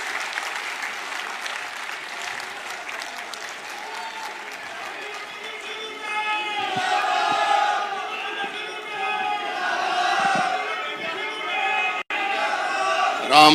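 A rally crowd at a Panchayati Raj gathering claps and cheers to welcome Bhupinder Singh Hooda, the applause moderately loud and swelling midway with shouted voices rising over the sustained clapping.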